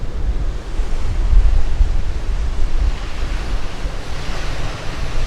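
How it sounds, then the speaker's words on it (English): Strong wind roars across the microphone alongside the steady wash of surf at Makapu'u Beach, Hawaii, a loud broadband rumble with gusts that swell and ease, no voices. "It's a pretty windy day, guys."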